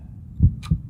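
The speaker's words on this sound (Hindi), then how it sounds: "बूढ़े की धड़कन की आवाज़ थी। धक धक धक।" A heartbeat sound effect for a reading of The Tell-Tale Heart, giving one deep, booming lub-dub thump pair at moderate volume over a low hum, with no voice.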